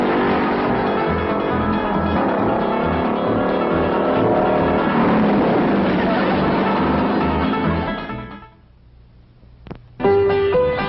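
An old car's engine runs loudly and roughly for about eight seconds before dropping to a low idle, followed by a sharp click and a louder restart near the end.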